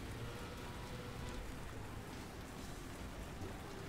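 Steady rain in the Trackmania racing game (TMFL) on the Dana's Valley track, a dense, even hiss that fills the whole stretch at low level with no voices over it.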